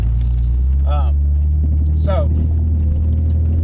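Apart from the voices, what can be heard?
VW Corrado G60 engine while driving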